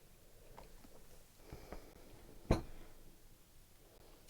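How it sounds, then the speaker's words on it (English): A heavy vintage first-aid book gives one sharp, close bang amid soft rustling of its pages being turned, all faint in a quiet room. "I do apologise for the banging from this book."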